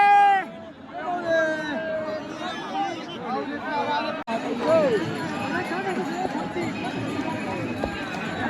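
Dense crowd chatter in a packed crowd of pilgrims around the Vitthal Rukmini temple, many overlapping voices near and far with shouts rising over the steady babble.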